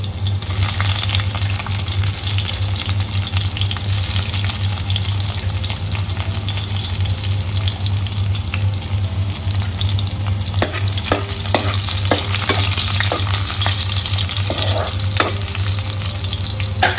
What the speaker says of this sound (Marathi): आता लसूण टाकू।